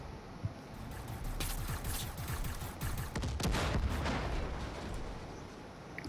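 Mars gun fired in the Far Cry 5 video game, a clattering barrage of rapid blasts and crackling bursts building to a dense volley, fairly close, with no talk over it.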